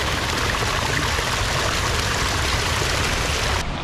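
Water from a stream on the Olympic Coast near Third Beach is being filtered while backpacking. Close, steady rushing and trickling flows without a break for the whole stretch, and no voices are heard.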